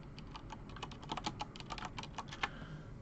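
Fast typing on a computer keyboard, a dense run of light clicking keystrokes at a steady close distance with no voices.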